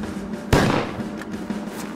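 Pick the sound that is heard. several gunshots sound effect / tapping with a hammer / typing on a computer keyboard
several gunshots sound effect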